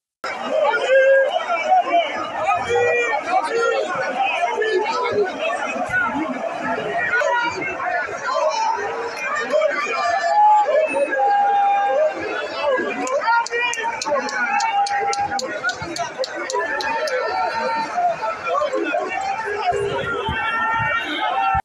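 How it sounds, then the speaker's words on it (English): A mammoth crowd fills Alaba International Market in Lagos with dense, continuous chatter and shouting, many voices overlapping close by in a steady roar of babble and movement. "the mammoth crowd is only getting bigger as he strives and walks around the Alaba International Market"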